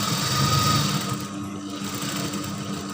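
A sewing machine runs steadily while stitching baggy pants, locking the end of a seam, with a continuous even whir close by and no voices.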